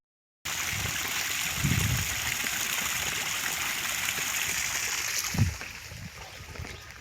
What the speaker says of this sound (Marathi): आणि आता इथं सायकल धुवायचं काम चालू आहे